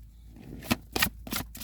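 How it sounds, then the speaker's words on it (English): Oversized tarot cards are shuffled by hand in three quick riffling bursts, close and fairly loud, with short pauses between them. "I can't shuffle this one."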